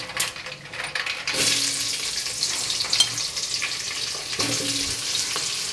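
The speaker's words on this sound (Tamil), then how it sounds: "வெங்காயம் நல்லா வதங்கிட்டுருக்கு" Large onions frying in oil with curry leaves for tomato thokku, a loud, continuous sizzle with occasional stirring scrapes and clanks in the pan, no talking.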